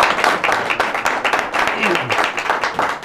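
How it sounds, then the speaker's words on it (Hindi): An audience claps for a poet at a poetry recital, steady dense applause filling the room throughout, with faint voices murmuring underneath. "बहुत अच्छा, इसके लिए ज़ोरदार ताली।"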